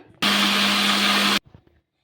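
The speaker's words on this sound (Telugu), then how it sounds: "మిక్సీ అయితే పట్టేసుకుందాం" A kitchen mixer grinder runs for about a second grinding dosa batter with a little water, a loud steady motor whir that starts and stops abruptly, followed by faint clatter.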